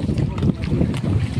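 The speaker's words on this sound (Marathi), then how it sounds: "हा बोट क्लब." Boats on the water at the boat club on Gangapur dam in Nashik, a steady outdoor wash of water and wind noise with voices talking over it throughout.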